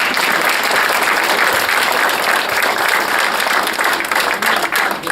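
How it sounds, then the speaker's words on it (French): A theatre audience applauds loudly and steadily at a December school drama performance, dense clapping throughout that thins slightly near the end. "Et une bonne main d'applaudissements à tous mes élèves"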